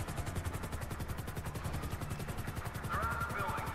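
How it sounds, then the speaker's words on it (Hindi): A helicopter arrives in the video game GTA V, its rotor chopping in a rapid, even beat that stays loud and close throughout, with a faint higher whine joining near the end. "अरे एक और हेलीकॉप्टर आ गया।"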